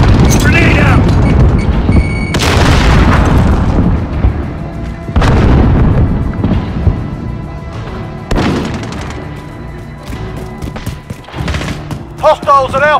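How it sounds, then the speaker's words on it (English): In a Call of Duty Modern Warfare domination match on St Petrograd, a grenade goes off with a loud, booming blast, followed by further heavy explosions and scattered gunfire that fades into sharper, sparser shots. "Grenade out!"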